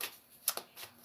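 Tarot cards shuffled by hand, a few quick riffling and slapping bursts close to the microphone, separated by short pauses, with no speech.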